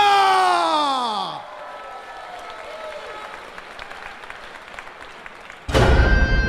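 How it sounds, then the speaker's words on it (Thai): A crowd at a Muay Thai event in Pattaya bursts into loud applause near the end, after a fading musical fanfare and a stretch of quieter background murmur. "ขอเสียงปรบมือดังต้อนรับ"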